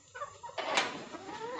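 Broody village hens clucking, a few soft low clucks at first followed by a louder burst of agitated clucking, close and fairly quiet.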